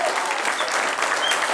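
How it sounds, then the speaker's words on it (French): An audience gives loud, dense applause for performers at a solidarity couscous event in Chambéry. The clapping is steady and sustained for the whole short stretch, with faint crowd murmur mixed in. "Je pense qu'on peut encore les applaudir très fort."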